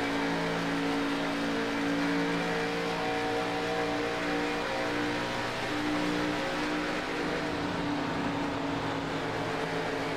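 Short-track race cars in the American Short Track Association series hold a continuous droning engine roar at a steady distance, with tonal whine and no distinct passes or pauses.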